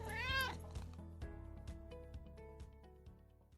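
A house cat gives one clear, rising-and-falling meow near the start, close and fairly loud, followed by faint rhythmic tapping and background music with no talking.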